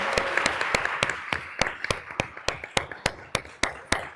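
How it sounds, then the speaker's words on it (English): Applause for panelists closing a data equity panel at a Latinx health policy summit, heard as sparse, distinct claps in a steady rhythm, moderately close and alone. "Give them a round of applause."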